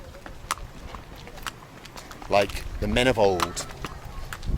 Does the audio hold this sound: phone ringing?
no